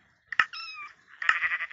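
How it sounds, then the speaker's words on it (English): A cat meows inside Minecraft, two short synthetic mews about a second apart, close and clear with no talk over them. "Wait, there's a cat here?"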